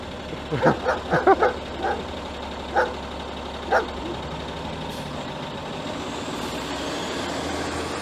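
Dog on a snowy Toronto street barking a quick cluster of sharp, moderately distant barks, then two more single barks, over steady traffic noise.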